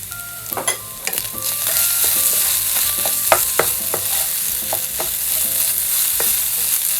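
Bird's eye chili goes into sardine sisig in a frying pan, bringing a steady close sizzle with scraping stirs and clinking spatula taps at irregular intervals, no voices.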